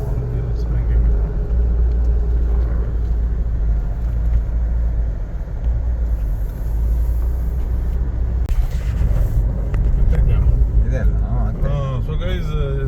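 Suzuki Jimny cruising on a road heading east through Sindhuli district, a steady low engine and road rumble heard from inside the cabin while someone talks throughout.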